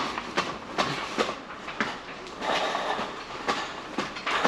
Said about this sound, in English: My train is here.